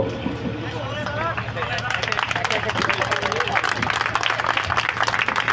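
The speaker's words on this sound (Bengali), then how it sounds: "সাথে সাথে আমরা তালি দিব" Audience at an inauguration ceremony, with a lamp being lit to open the event, breaks into steady clapping. The applause builds after about two seconds and continues unbroken and moderately loud, with crowd voices and speech mixed in throughout.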